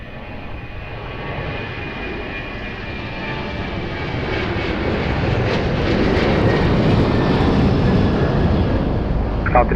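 A fixed-wing airliner on approach to runway 02 at Lisbon Airport, its engine roar building steadily from a distant rumble to a loud, broad drone as it nears, with no talking.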